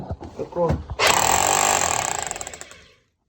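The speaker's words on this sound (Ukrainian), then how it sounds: "зараз знову перфоратор буде робити" A loud hammer drill roars in after a few seconds of talk while insulating a chicken coop, a dense mechanical rattle that holds steady and then cuts off.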